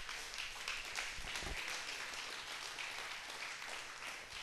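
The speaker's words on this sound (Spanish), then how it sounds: "brindele un aplauso al Señor" Church congregation applauding during a Spanish-language service, steady dense clapping heard at a modest level for several seconds with no speech over it.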